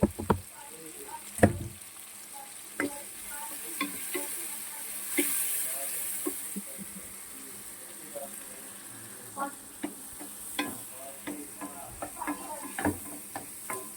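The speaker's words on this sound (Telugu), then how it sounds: "ఇది టమాటాలు బాగా ఫ్రై అవ్వాలి" Tomatoes fry in oil for khichdi, giving a steady soft sizzle with scattered sharp clicks and scrapes of stirring, fairly close, with no talk over it.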